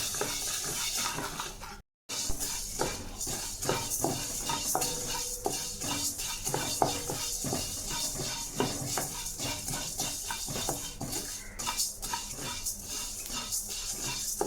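Coriander seeds dry-roasting for sambar powder, stirred in a pan with steady scraping and clinking of a utensil against metal, busy and close throughout with a short gap near the start.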